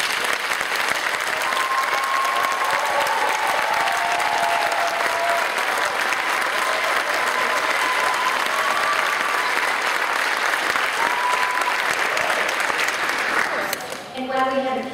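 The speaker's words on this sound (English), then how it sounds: "You need to give them an applause one more time." Dense, sustained audience applause fills a hall for the children at the 2012 Osceola All County Elementary Music Festival, holding steady for many seconds before stopping abruptly near the end.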